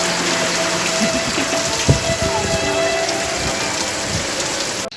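Heavy rain pours down continuously, a dense hiss of drops striking surfaces close by, with a few louder knocks and a brief clatter near the end.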